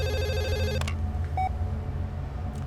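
A telephone in a government office rings with a bright electronic warbling tone for under a second, then falls silent over a low hum and a short faint beep.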